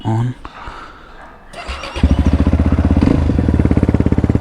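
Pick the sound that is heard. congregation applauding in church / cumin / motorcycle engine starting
motorcycle engine starting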